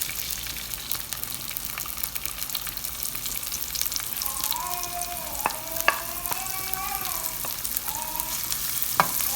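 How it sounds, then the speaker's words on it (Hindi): Chopped onions fry in a little oil in a karahi for mutton makhani karahi, a steady close sizzle with stirring scrapes and a few sharp clinks of the utensil, no voices. "अब मैं इसमें प्याज कटा हुआ डाल दूँगी।"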